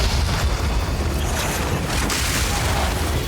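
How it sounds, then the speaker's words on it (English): Dense, continuous booming explosions from a Storm Lance attack in Path of Exile 2 fill the whole stretch at steady high volume, layered rumbling blasts without a clear break. "crazy explosions."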